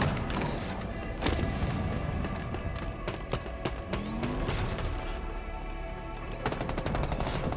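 Rapid weapon fire in Halo Infinite gameplay plays over dense game noise as repeated sharp bursts, with a fast run of evenly spaced shots toward the end.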